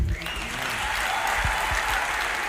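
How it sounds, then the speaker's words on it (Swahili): A church congregation applauds loudly and steadily, dense clapping filling the room, with a voice briefly audible at the start. "Basi tumpigie makofi anaporejea kwa kiti"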